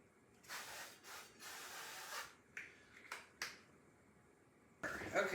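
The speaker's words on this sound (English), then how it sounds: "We're going to grease our 9x13. This stuff sprays everywhere." Cooking spray hisses onto a 9x13 baking pan in a few long bursts, followed by shorter spurts and a final hiss. The sound is close and fairly soft, with no talking.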